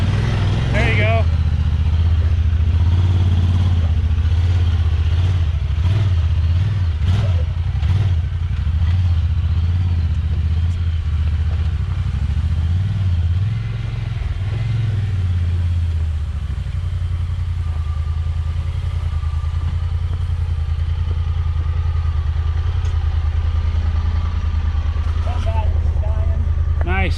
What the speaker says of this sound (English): what do you think about the Honda Talon in the short little rock course we did